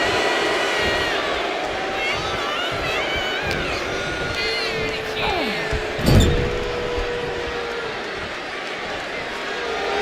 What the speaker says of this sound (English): Pete Dunne is fired up and wants this crowd to know it